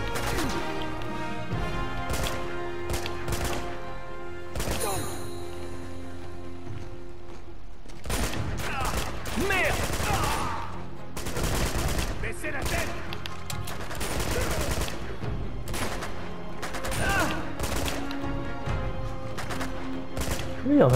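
Bursts from a small machine gun in Uncharted 2: Among Thieves crackle in rapid clusters, interleaved with heavier impacts and crashes, loud and continuous with brief gaps between volleys.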